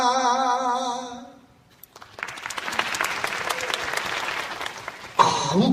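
Lecture audience at a university special talk bursts into steady clapping after a sung passage, applause rising and holding for a few seconds between stretches of singing voice.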